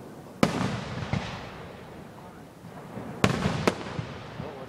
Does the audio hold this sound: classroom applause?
no